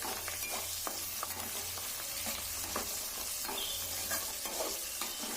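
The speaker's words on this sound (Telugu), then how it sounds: "ఇలా వేగిన వాటిలో పచ్చిమిర్చి కూడా యాడ్ చేసి ఇంకా బాగా వేగనిద్దాం." Curry leaves, mustard seeds and green chillies fry in hot oil for a spicy okra curry, giving a steady, dense sizzle with scattered stirring clicks throughout and no talking.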